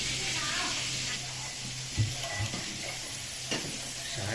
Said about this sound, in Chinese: 然后那边就可以继续煎土豆。